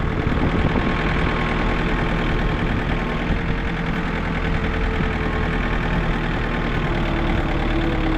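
A John Deere 110TLB backhoe engine idles steadily after a hydraulic oil change, a loud, even diesel rumble with a faint knocking texture that continues unbroken throughout.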